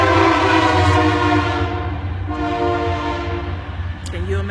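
A train passes close to a home, its horn blaring loud and sustained before easing off while the rumble of the cars carries on underneath.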